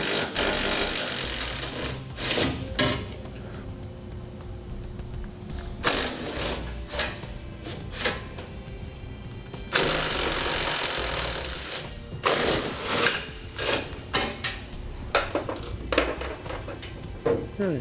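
Bursts of a ratcheting socket tool or impact wrench loosening bolts with a 16mm socket while fitting a Curt trailer hitch receiver to a 2016 Ram ProMaster, loud and close, in several separate runs with short pauses between.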